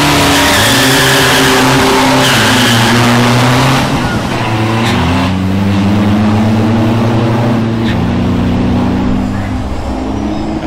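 Racing cargo delivery pickup trucks rev loudly and continuously at a race event in Bangkok, Thailand, engines droning and rising in pitch close by, with a brief tire squeal.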